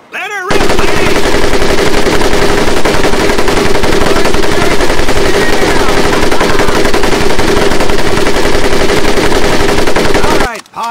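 Mounted machine gun in the Medal of Honor Pacific Assault boot camp, firing one loud, unbroken burst of rapid automatic fire for about ten seconds, close and harsh, then stopping abruptly.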